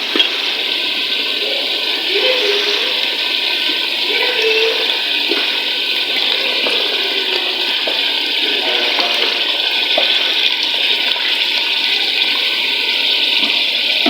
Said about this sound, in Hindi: लिहाजा अब मैं इसके अंदर शामिल करने लगी हूँ पानी।